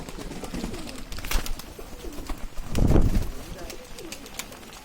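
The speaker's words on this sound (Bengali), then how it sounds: "এখানে কিন্তু থাকে পায়রাগুলো সব।" Pigeons coo in low, rolling bursts near a village pond house where dogs and ducks also roam, with one fuller coo swelling midway; a person talks intermittently over the birds.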